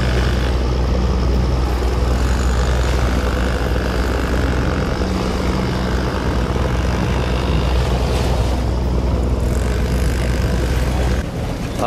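A fishing boat's engine drones loud and steady at sea off Vung Tau, a constant low rumble with wind and water noise, continuing unbroken throughout.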